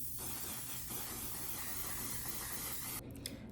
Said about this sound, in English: for setting spray, I'm going to be using the One Size setting spray